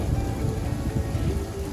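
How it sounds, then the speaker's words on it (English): Steady rain falls during a storm on a mountain trail near Lake Winnemucca, South Lake Tahoe, a dense, even patter on the surroundings, close and continuous with no talking. "It's starting to rain pretty good."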